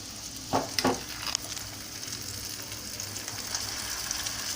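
Blended mutton and lentil paste for haleem drops into a hot pan with a couple of sharp splattering bursts, then settles into a steady, close frying sizzle.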